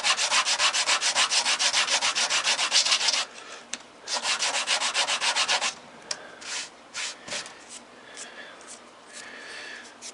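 Wooden model top mast being sanded to a taper, with steady rhythmic back-and-forth rubbing strokes close up for about three seconds, a pause, another run of strokes, then sparser, softer scraping with faint background noise.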